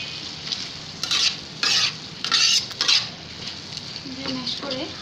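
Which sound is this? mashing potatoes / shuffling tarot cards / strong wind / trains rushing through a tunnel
mashing potatoes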